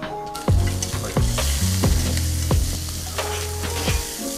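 Shrimp fry in a pan over high heat for a risotto, giving a steady loud sizzle broken by several sharp scrapes and knocks of stirring, about five strikes spread across the moment, with no talking.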